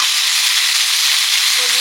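Boiled, drained taro stems dropped into a hot pan give off a loud, steady sizzle with a broad hiss that continues evenly from start to finish.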